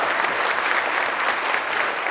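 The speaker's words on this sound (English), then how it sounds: "I'd like to, give them a nice round of applause" An audience at a farmworker spotlight program bursts into dense, even applause, a continuous wash of many hands clapping at full volume throughout.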